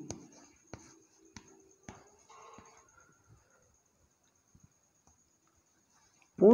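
Pen or chalk writing during a maths lesson, light scratchy strokes and taps in short bursts, then quiet, with a teacher's voice cutting in at the end.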